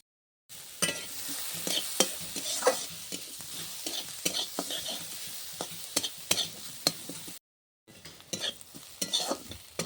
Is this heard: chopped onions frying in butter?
yes